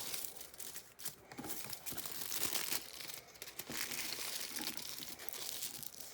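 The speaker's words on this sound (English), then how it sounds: "We can try and connect one part to the other using tin foil. So I'm going to fold this up" Tin foil crumpled and folded by hand into a wire-like strip, steady soft crinkling and crunching close up, fairly quiet, with no talking.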